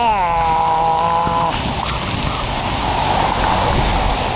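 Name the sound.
heavy downpour of rain on road in Vietnam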